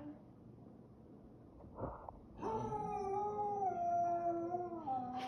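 A beagle lets out a long, loud, wavering howl after a short snort, close by and indoors, with faint background noise before it.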